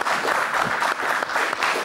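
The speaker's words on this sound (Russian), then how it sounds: "я предлагаю эту порцию аплодисментов адресовать Наталье." Studio audience at a television talk show breaks into sustained applause, a dense wash of clapping that holds steady for about two seconds with a brief dip midway.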